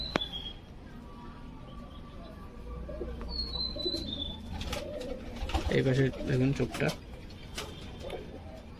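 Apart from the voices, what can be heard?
Andhra pigeons cooing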